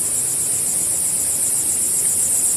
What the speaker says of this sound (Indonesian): Ini suara air terjun.